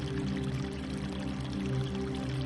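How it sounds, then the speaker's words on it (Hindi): Water falling from a height in a forest waterfall, a steady pouring rush at low level, continuous and unbroken with no voices. "एक ऊंचाई से गिरते हुए झरने को"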